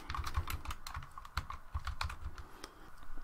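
Text typed on a computer keyboard into a presentation slide, with rapid, uneven close-up key clicks continuing steadily for a few seconds, no talking.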